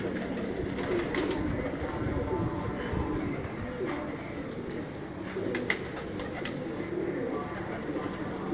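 Kabuli pigeons cooing in a Karachi pigeon keeper's loft, soft low repeated coos and wing shuffles over a steady background hum, with occasional faint sharp clicks.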